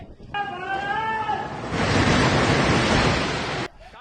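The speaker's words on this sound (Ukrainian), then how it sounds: "Населеним пунктом пронеслися величезна злива та пилова буря водночас." A violent windstorm with a sudden downpour and dust storm in Mumbai that uproots trees and topples billboards roars as a dense, steady rush of wind and rain, loud and close, after a brief whistling tone.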